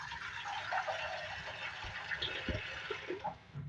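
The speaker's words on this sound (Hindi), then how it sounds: "जो है हम पानी ऐड करेंगे" Water poured into a pot of dal cooking with fried spices, a steady splashing gush with a few bubbling pops near the end, no talk over it.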